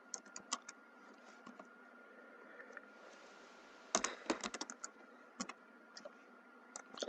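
Typing on a computer keyboard while writing code, close and quiet: irregular clusters of crisp key clicks with pauses, a faster flurry in the middle, no speech.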